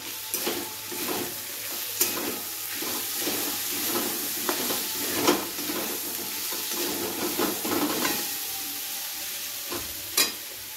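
Green chili paste and spices sizzle and fry in a pan while being stirred, with a steady hiss broken by scraping stirs, heard close with no voices.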